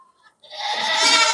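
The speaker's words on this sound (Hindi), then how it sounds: "ये बकरी है और उसका बच्चा है ये सेम।" A goat bleats loudly and steadily, a long broad call, offered for sale with its kid among bantam and goat stock at a farm market; a faint tone and brief murmur come first.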